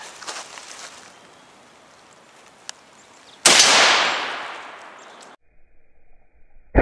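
A black-tip armor-piercing rifle round fired at a 2-inch steel plate: one loud, sharp blast followed by a long rolling echo that fades over about two seconds, then quiet.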